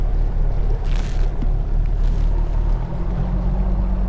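A Skeeter FXR 21 bass boat engine runs at a steady idle after a push-button start, a close, constant low rumble with some wind noise.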